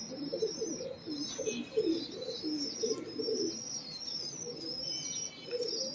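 Pigeons coo in soft, rolling bursts nearby, their low throaty calls repeating irregularly over faint high chirps and quiet background hiss, with no talking.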